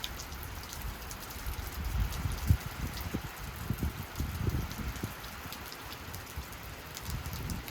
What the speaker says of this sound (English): Rain, not in the forecast at all.